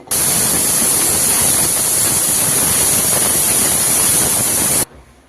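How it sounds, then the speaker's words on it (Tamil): Pressure cooker whistle on a pot of mushroom pulao, a loud, steady, hissing steam blast lasting several seconds before cutting off abruptly. "இப்போ மூடி 2 விசில் வச்சுக்கலாம்."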